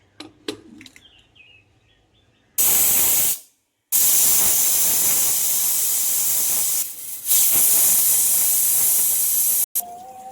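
A pressure cooker whistles and vents steam in three loud, sustained hissing bursts separated by brief silences, with quieter kitchen sounds before the first burst.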